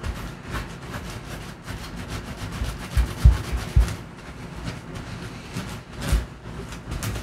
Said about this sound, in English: And as I'm rubbing, I'm also pressing down on the plate.